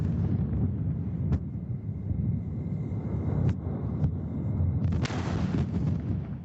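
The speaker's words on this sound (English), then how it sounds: "Online cameras that watched the pad round the clock captured the explosion of Starship." Distant SpaceX Starship explosion at its launch pad at night, heard as a deep rumbling roar with a few sharp cracks and a burst of noise near the end, picked up by a far-off pad camera microphone.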